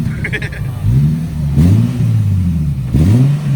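A car engine, an Infiniti G37 with an ISR exhaust, revs up twice, its exhaust rising and falling in pitch, loud and close, with a bit of clatter early on.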